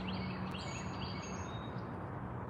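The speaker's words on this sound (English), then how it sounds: "You hear the birds." Faint, high bird chirps and short tweets repeat over a steady outdoor hiss, with no voices.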